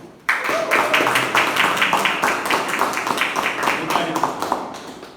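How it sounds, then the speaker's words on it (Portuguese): An audience at a talk on the Multi Training functional fitness program claps in welcome, brisk and fairly close, with someone speaking over the clapping. "Por favor, recebam com uma salva de palmas com o Ronaldo Friedel"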